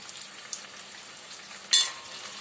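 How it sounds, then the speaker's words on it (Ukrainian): Salted onions frying quietly in a pan, a soft steady sizzle with a brief louder scrape of stirring near the end, no voices. "помішую. Цибуля вже м'яка"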